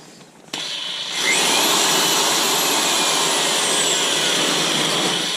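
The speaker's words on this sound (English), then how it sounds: "so I'm going to hook the drill to it" Power drill spinning a car's speedometer cable counterclockwise, starting with a click and then settling into a loud, steady high-pitched whir that holds for several seconds with a faint rising whine.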